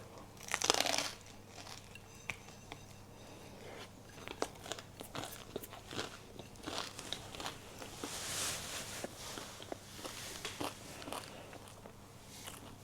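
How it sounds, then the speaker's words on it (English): Crunching bites into crisp toasted bread at a traditional Danish lunch with remoulade, a series of close, sharp crackling chews spread unevenly through the stretch, fairly quiet overall with a louder burst near the start. "So I toasted the bread so it's crunchy."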